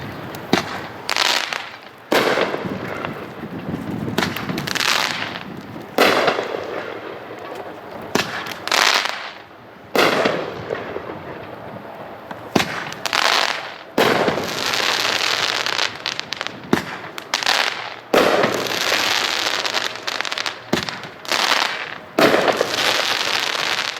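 Fireworks from a 37-shot cake fire in rapid succession, a long run of loud bangs and crackling bursts with brief pauses between volleys.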